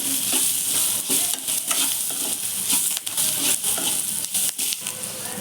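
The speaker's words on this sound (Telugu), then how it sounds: "ఇలా వీటిని మగ్గించుకోవాలి ఆయిల్లో బాగా." Steady, loud sizzling of vegetables for brinjal-tomato chutney frying in hot oil, with occasional stirring scrapes and no talking.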